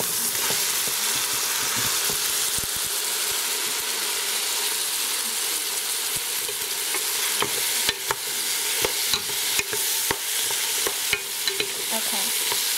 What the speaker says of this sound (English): And now I'm going to add in the ground beef, and it was a little frozen, so I cut it up just so it cooks easier.